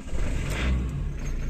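A troublesome truck's engine turns over and revs loudly, a rough mid-pitched roar that swells briefly and then holds steady, with no one talking.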